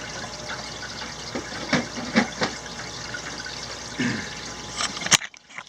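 A small bucket is filled by hand with RO water for an aquarium water change: a continuous soft rush of pouring water with a few louder splashes and knocks, stopping abruptly near the end.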